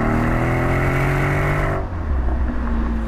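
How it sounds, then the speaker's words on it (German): A Mercedes-AMG SL 63 V8 engine pulls hard under acceleration, a loud continuous roar with rising harmonics that shifts tone partway through, close and steady with no talk over it. "Also der Sound natürlich. Klar, V8."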